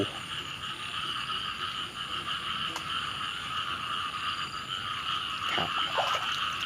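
Frogs croak in a dense, continuous chorus beside a dug farm channel, with steady layered calls and a few brief louder notes near the end.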